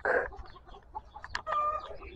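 Native chickens in a coop give a few soft, scattered clucks and one brief, higher call, fairly quiet and close by, with no talking.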